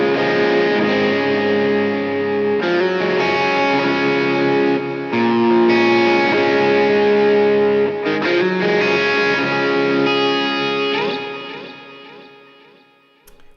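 Electric guitar strums through a chord progression using hammer-ons, processed by a Helix multi-effects unit with distortion and modulation, several chords ringing loud and full in turn before the last one decays at the end.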